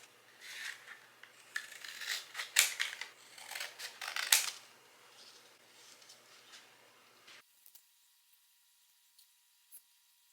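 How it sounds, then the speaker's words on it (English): Scissors snipping through a cardboard Kodak film box, a run of close, crisp cuts and crunches that thin out into a few faint clicks before near silence. "We're gonna cut up this Kodak."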